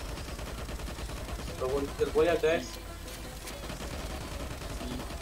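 Burst of rapid gunfire in a desert-map online shooter game, mid-level and brief, with someone talking over it and dense game background noise throughout.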